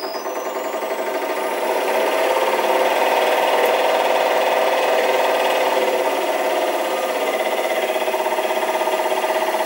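A restored Delta/Rockwell variable-speed scroll saw driven by a 3-phase motor runs steadily throughout, a loud continuous mechanical whir and rasp that swells slightly in the first seconds and then holds even, with no voices.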